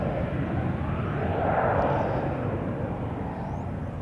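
KLM flight 1137, a passenger jet, taking off at Schiphol's Polderbaan runway, with a loud sustained roar that swells slightly and holds steady, close and unbroken.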